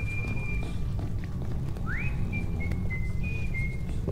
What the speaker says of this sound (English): Who the fuck's over here whistling?